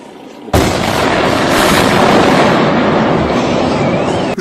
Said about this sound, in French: Le bâtiment explose.